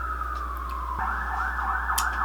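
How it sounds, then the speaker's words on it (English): An ambulance siren wails loud and close as it passes, a falling tone that switches to a rapid warbling pattern, over a steady low hum with no speech. "Just gonna give the ambulance a minute."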